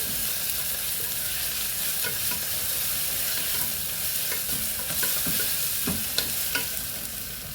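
A fresh paste fries in a pan for a macaroni chicken egg biryani, giving a dense, even sizzle throughout, with scattered light stirring scrapes near the end. It is close and steady, with no voices.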